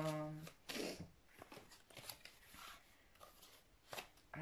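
Tarot cards shuffled for a reading, a quiet, close riffling and flicking in several short bursts, with a brief tone at the start.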